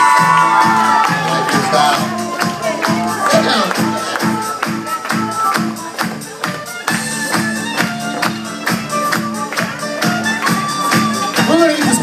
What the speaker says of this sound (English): everybody scream!